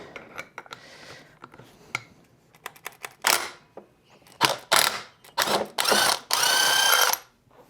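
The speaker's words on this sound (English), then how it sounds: "Man, this drill's clutch, dude." A drill's clutch ratchets in sharp clicks while installing an Ohlins fork cartridge kit on a 2024 Harley, first scattered and sparse, then in longer, louder bursts of rapid clicking near the end.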